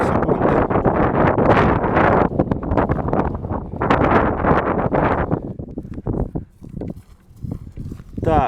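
Strong gusts of wind sweep an open field at an air-rifle shooting session, buffeting the microphone in loud, rough bursts that ease off toward the end.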